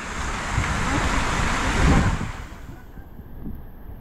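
A river flowing over sand and stones at Canding Falls in San Clemente, Tarlac, giving a steady broadband rush of water with some wind noise, loud throughout and easing slightly toward the end.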